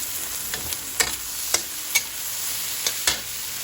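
String beans and sweet potato stir-fry in a hot pan, with a steady sizzle under sharp clacks and scrapes from the utensil at irregular intervals, close up and with no talk.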